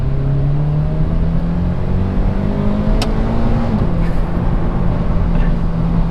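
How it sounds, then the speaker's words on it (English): Vortech supercharged FR-S car accelerating hard, its engine note climbing steadily with a rising supercharger whine, then a brief dip at a gear change before pulling on again, loud and close. "first time letting a rip in the Vortech Supercharged FRS"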